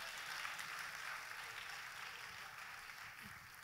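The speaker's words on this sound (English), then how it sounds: "Will you clap your hands and praise him?" A church congregation claps their hands in praise during a sermon, a soft, diffuse wash of many hands heard at a distance in a reverberant hall, steady and low-level throughout.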